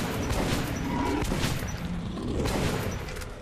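Gunfire rattles in the video game Metro Last Light Redux, with rapid bursts of shots and booming impacts, loud and continuous over a dense mix of game sounds.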